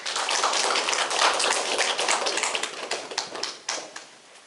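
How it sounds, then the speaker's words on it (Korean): Audience applause after a lecture at an urban planning talk: a thick wash of many clapping hands that holds steady, then thins into a few last claps and fades out. "다시 한번 열정적으로 강의해 주신 박사님께 뜨거운 박수 부탁드리겠습니다"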